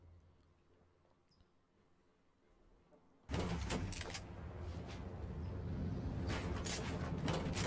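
A squad's vehicle driving in a battle royale game: a quiet lead-in, then a loud steady engine roar that kicks in abruptly and holds, with a few sharp clanks over it.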